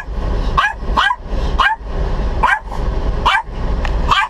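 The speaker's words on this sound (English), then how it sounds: "I didn't make him bark or anything." A dog barks in a steady series of about eight sharp barks, evenly spaced and fairly close, over a low rumbling background with no talk.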